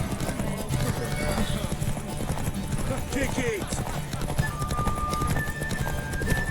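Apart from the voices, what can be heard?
horse galloping hooves in Witcher 3 video game race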